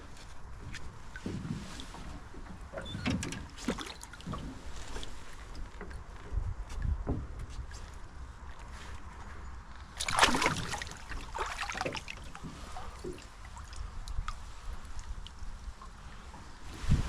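A small rowboat is handled on a lake, with intermittent knocks, thumps and splashy water movements against wind noise, and one louder clatter midway, with no speech.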